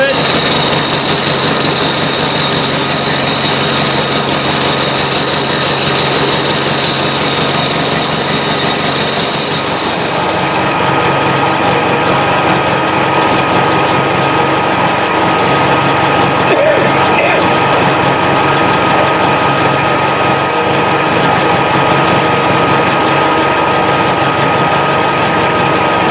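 A milling machine takes heavy cuts in cast iron, a loud continuous grinding and rattling drone with a steady metallic chatter that shifts in tone partway through, heard alone without talk.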